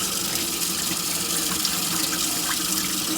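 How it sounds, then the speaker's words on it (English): Steady cold running water splashing into a sink while rice is rinsed and swirled, close and continuous, with no voices. "So now we're gonna rinse our rice. Gonna swirl it with some cold water."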